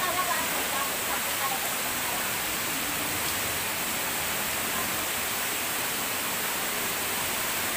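Water pouring down Walang Langit Falls on a mountain, a broad, constant rushing hiss that fills the whole stretch at steady loudness, with no clear voices over it.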